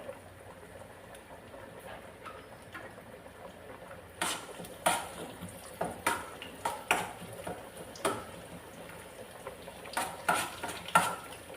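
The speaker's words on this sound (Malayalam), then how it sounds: "ആദ്യം തേങ്ങ ഇതൊന്ന് വറുത്തെടുക്കാവേ" Grated coconut roasting in ghee in a pan: a quiet sizzle at first, then repeated scraping stir strokes in an uneven rhythm, close by and with no talk.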